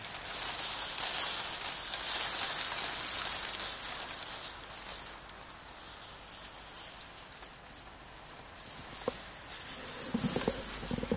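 Heavy rain mixed with hail pours down steadily during a passing cold front, a dense continuous hiss with a few sharper impacts near the end, no talking.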